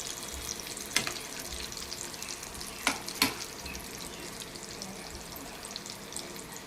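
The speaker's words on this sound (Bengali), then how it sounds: "আর ওই পিঠটা সামান্য একটু আমি ভেজে নেব" Flatbread sizzles steadily as its second side fries in a pan, a continuous crackling hiss broken by a few sharp clicks from the pan or spatula, close up and with no talking.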